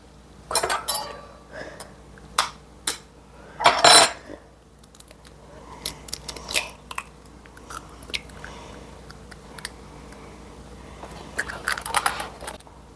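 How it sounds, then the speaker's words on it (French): Sharp cracks and clinks as two large eggs are broken into a crêpe batter bowl, with a few louder taps and rustling kitchen handling in between, close up and without talk. "2 gros œufs que je vais venir casser dans mon mélange"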